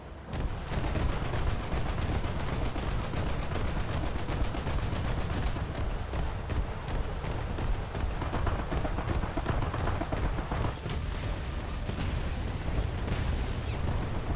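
Naval guns, including 40 mm cannons, fire steadily in a naval combat video game with a German coastal setting, a dense, continuous rumble of rapid shots and booms sustained loudly throughout.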